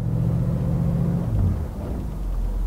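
A semi truck maneuvers and backs in on a street near a shop in Plymouth, Michigan, giving a low, steady diesel rumble that dips in pitch partway through, close by and fairly loud with no talking.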